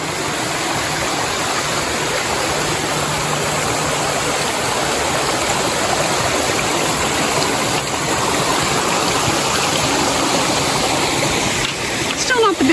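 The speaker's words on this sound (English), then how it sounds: "The waterfall back here." Steady rushing water from a small waterfall along North Coldwater Creek near Mount St. Helens fills the scene, a constant close roar with no pauses.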